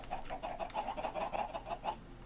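Chickens in the Minecraft video game clucking repeatedly as lava reaches them, a quick string of rhythmic clucks, fairly faint, with no talk.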